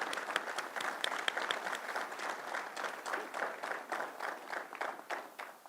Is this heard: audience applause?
yes